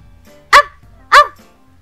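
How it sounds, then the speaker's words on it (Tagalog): A dog barking at a stranger, two loud sharp barks about half a second apart, close by against a quiet background. "Tahol ng Bantay sa estranghero"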